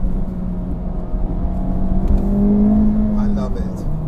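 Honda car on a track test day accelerating hard, its engine note rising and holding loud and close throughout, with a sustained whirring drone underneath.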